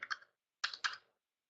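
A few quiet clicks on a computer keyboard as a value is typed into school enrollment software, arriving in two small clusters separated by a short pause in an otherwise silent room.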